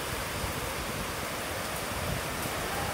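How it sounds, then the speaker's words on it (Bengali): Heavy rain driven by wind makes an unbroken, even roar of broadband hiss, fairly quiet and steady from start to finish with no voices. "হঠাৎ করে কি পরিমাণ বৃষ্টি শুরু হয়ে গেল।"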